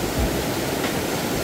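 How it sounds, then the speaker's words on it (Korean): Small waterfall in a valley pouring over rocks into a deep pool, a steady close broadband rush of falling water with no pauses, no talk. "여기가 이제 작은 폭포가 이루어지고, 여기 소가 있어요."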